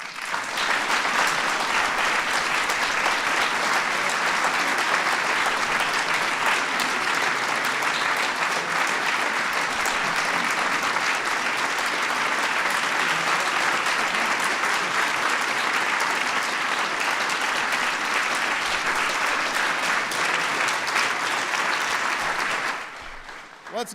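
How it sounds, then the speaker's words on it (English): A large audience claps for award recipients at a White House ceremony for the National Medals of Science and Technology, loud, dense and sustained for over twenty seconds before cutting off at the end. "Let's give a big round of applause to all our awardees."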